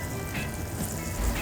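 A cup of water goes into a hot pan holding shrimp for a noodle soup, and a steady, close hiss of sizzling follows with a soft splash near the end, without any talking.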